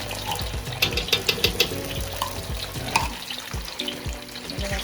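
Tomato paste and peppers fry in hot oil for a Nigerian dish, crackling loudly up close while a spoon scrapes and stirs through them in quick bursts, with no voices over the sizzle.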